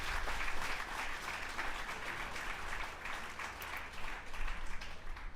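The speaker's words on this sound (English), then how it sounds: "please give a round of applause again to our wonderful presenter" Audience applause after a convocation lecture, a steady wash of many hands clapping that stays moderately loud and continuous throughout without pause.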